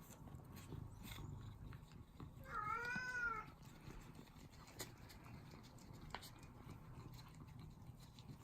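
Tani the cat gives a single drawn-out, wavering meow at close range, nagging her owner after a night away. The meow comes amid soft household rustling and scattered clicks.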